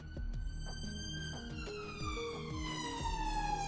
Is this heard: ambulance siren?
yes